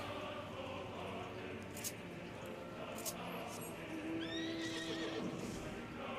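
A horse neighs in the Final Fantasy video game, a short rising whinny heard faintly inside a dense, steady game soundscape with a low hum.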